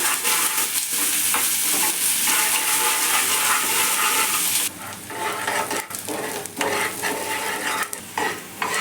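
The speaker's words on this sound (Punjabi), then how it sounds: "ਤੜਕੇ ਨੂੰ ਹੁਣ ਆਪਾਂ ਚੰਗੀ ਤਰ੍ਹਾਂ ਭੁੰਨ ਲੈਣਾ ਹੈ" Onions and chillies fry loudly in hot oil as a tempering for dal, a dense continuous sizzle with occasional scraping and stirring clatter close by.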